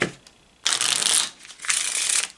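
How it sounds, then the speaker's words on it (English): Two bursts of playing cards being riffled and shuffled close up, the second following a brief pause, crisp and fairly loud. "So we're shuffling that into the cards."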